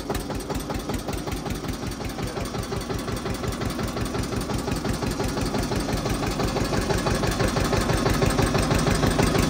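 A Mahindra Arjun Novo tractor engine runs loud and close with a dense, throbbing diesel rumble. It builds gradually in intensity as the throttle is slowly opened.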